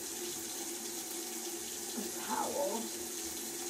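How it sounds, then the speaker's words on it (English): Tap water runs steadily into a bathroom sink while a face is rinsed during a morning skincare routine, a continuous near splash with a brief voice over it. "now I'm going to rinse my face off"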